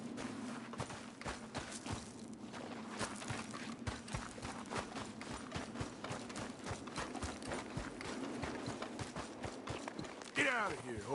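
A horse in the video game Red Dead Redemption 2 trots with a steady, rhythmic clip-clop of hooves that continues throughout, close and moderately loud, with a brief mechanical noise near the end.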